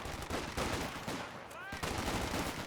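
Rapid bursts of automatic gunfire and rifle shots from a World War II battle in Company of Heroes 2, dense and continuous with a brief lull midway, over a busy battlefield din.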